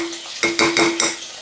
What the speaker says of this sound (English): I'll put some tomato paste in here